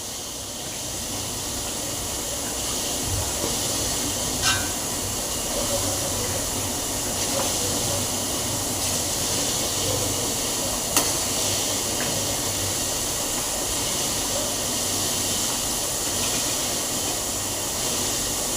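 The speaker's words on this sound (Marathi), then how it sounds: "मसाला चांगला भाजून घ्यायचा आहे।" Vada pav masala roasts in a pan with a steady, even sizzling hiss that carries on throughout, broken by an occasional faint click from stirring.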